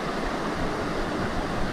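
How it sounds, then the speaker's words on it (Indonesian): Big ocean waves at a sea fishing spot make a loud, continuous rushing roar of surf, close and unbroken, with no voices. "Ombak gede."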